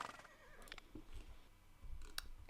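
A horse in the Roller Coaster Tycoon 3 video game gives a faint, short whinnying neigh amid soft background game sounds.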